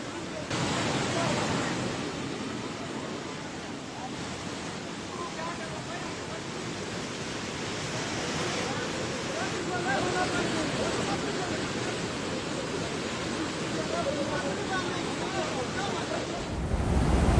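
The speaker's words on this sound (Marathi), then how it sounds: "जोरदार पाऊस सुरू आहे, त्यामुळे नदीला पूर आलाय" Loud, steady roar of a flooded river after heavy rain, a continuous broadband wash with no pauses, churning close by.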